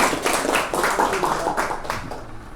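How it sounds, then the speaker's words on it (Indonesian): Calligraphy students at a boarding-school training closing are applauded, several seconds of rhythmic, fairly close hand clapping that fades slightly toward the end, with voices mixed in. "Sekali lagi tepuk tangan buat kalian."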